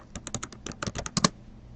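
Keys clatter on a computer keyboard as a medication name is typed into a hospital order-entry system, about a dozen quick close clicks in a burst that then stops.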